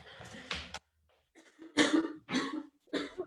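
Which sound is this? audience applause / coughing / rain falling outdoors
coughing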